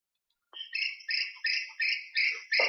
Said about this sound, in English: Listen to this recorded audio for the birds.